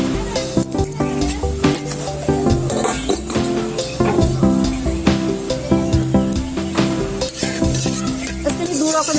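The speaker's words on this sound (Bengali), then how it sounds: "কি শুকনো মরিচ দিয়ে দিলাম একটু পাঁচফোড়ন দিলাম" Dried red chillies and five-spice seeds crackle and sizzle in hot oil as a tempering for mango pickle. Busy, dense frying hiss with constant popping and stirring, close and loud throughout.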